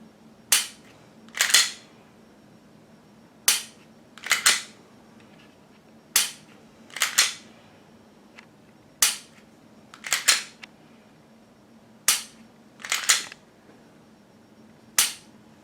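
Glock 19 Gen 5 pistol fired over and over, roughly a dozen sharp gunshots arriving singly and in quick pairs or triplets at irregular intervals, loud and close with no voices.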